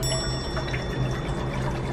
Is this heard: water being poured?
yes